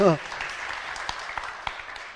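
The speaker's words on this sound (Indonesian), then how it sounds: "Tepuk tangan." Scattered applause from an audience, with a few sharp individual claps standing out in a short, moderate burst.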